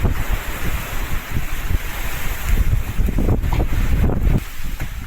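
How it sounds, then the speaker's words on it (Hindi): Powerful wind lashing a jamun tree's branches outdoors at the season's first rain, a steady loud roar with buffeting microphone gusts and no voices. "देखना कितनी तेज़ हवा चल रही है"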